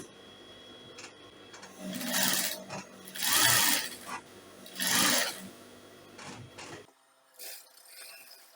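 A sewing machine stitches a gown-style dress with cut-together sleeves in several short bursts of whirring, each a second or so long, separated by brief pauses; it is close and moderately loud, no voices, and ends with a couple of faint clicks.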